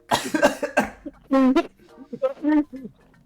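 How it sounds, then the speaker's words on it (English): Several harsh coughs burst out close to the mic, followed by a few more throaty coughs and a short vocal sound, with brief pauses between. "I apologize for the coughing, by the way"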